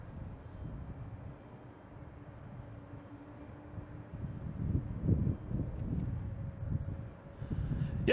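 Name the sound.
PAL Airlines airplane taking off at Boston Logan airport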